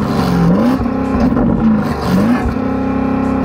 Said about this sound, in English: Go on, rev the car up.